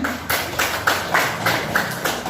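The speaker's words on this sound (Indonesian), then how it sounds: "Betul, tepuk tangan" Classroom clapping from a group, about eight even rhythmic claps in unison at a steady pace, close and fairly loud with no talking over it.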